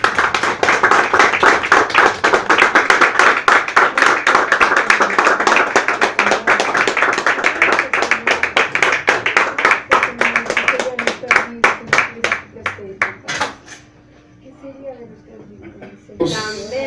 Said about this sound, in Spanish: Un aplauso a Cristo, aleluya.